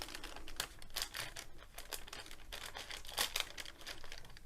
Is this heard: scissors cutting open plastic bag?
yes